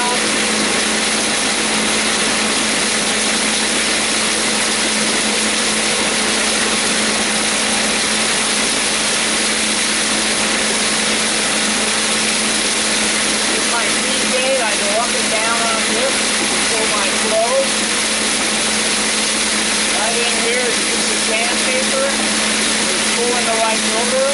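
A homemade de-hulling machine for grains and peas, driven by a quarter horsepower motor, runs with a loud, steady drone and hum throughout, with faint voices briefly rising over it near the end.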